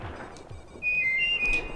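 Whistling from the Oddworld: Abe's Oddysee video game, a short thin two-note whistle lasting under a second over low room noise.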